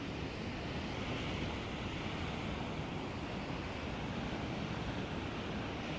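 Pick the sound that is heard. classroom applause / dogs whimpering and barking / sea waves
sea waves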